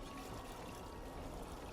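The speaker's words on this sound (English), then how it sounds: "Pour the water." Water pours steadily from a bucket in the INDIKA video game, a continuous splashing trickle lasting a couple of seconds with no talk over it.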